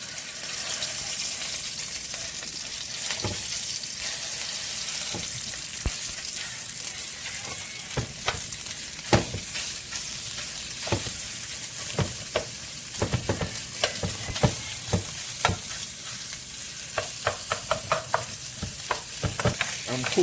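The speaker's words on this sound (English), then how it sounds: "Now I'm going to add my sausage." Sausage frying in a pan for a baked spaghetti casserole, with a steady close sizzle and frequent scraping, clicking stirs of a utensil over twenty seconds and no talking.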